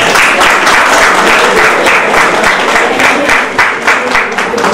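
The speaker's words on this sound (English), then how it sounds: "So you can clap for yourself" Members of a club applaud at an Inner Wheel installation event in Indore, loud dense clapping from a close crowd that sustains evenly and eases slightly near the end.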